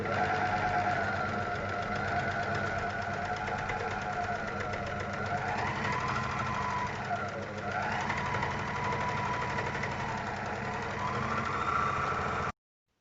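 An overlock serger sews fabric strips for a face mask, its motor running in a steady, fast, rattling drone that varies slightly in pitch before stopping abruptly at the end.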